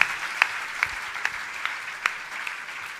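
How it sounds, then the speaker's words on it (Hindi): Audience applause for a guest speaker at a Jain religious gathering, a continuous crowd of clapping under a few sharper individual claps that stand out at regular intervals, with no speech. "मैं चाहूंगा इनके लिए जोरदार तालियां बजती रहनी"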